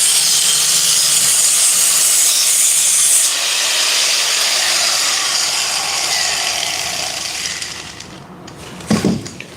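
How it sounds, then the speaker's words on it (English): Grinder wearing down metal pieces during a live shop session, a loud continuous abrasive hiss and whine held close for several seconds before tapering off, ending in a few scattered knocks. "look how much it grinds it down"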